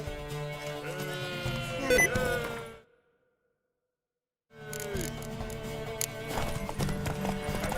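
Horse hooves clip-clop steadily amid game music and voices in The Witcher 3, cutting to silence midway before resuming with the same galloping rhythm.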